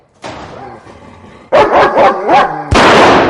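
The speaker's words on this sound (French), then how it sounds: "Sale bête de chien!" A dog barks and yips in a frantic burst of several loud, close barks, followed by a sharp crash-like thump, set in a tense scene in a French radio mystery drama.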